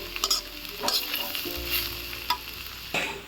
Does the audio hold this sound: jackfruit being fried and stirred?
yes